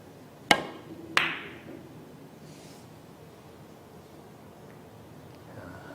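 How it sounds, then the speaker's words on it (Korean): Two sharp cue-ball strikes in a three-cushion billiards practice shot, about 0.7 seconds apart, loud, close and clean, each with a short ringing tail, followed by a quiet room. "부드럽게 큐로 앞으로 보내는 느낌으로 네. 반 두께를 그려서 한번 쳐보세요."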